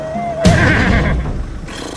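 A single horse whinnies loudly and close by, a sharp rising cry that trails into a rough, fading neigh in a rural countryside setting, with no talk over it.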